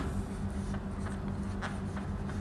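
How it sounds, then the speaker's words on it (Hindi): Handwriting during a maths lesson on polynomial functions, a steady scratchy stroke of pen across a surface, close and continuous for a couple of seconds with no talking. "तो मैं लिखता हूँ नॉट ए"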